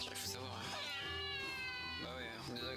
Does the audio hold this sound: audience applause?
no